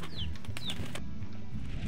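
A stony hen from the game Slime Rancher clucks and squawks in a few short calls over a busy low background hum, with chirpy rising notes scattered through the brief stretch.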